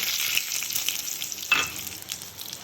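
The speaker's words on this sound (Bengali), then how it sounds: "বেশি গরম হয়ে গেছে জিরা সরিষা আর জিরা দিলাম" Cumin and mustard seeds sizzling in very hot oil in a pan, a continuous crackling fry with scattered pops and one sharper spit, heard close and alone.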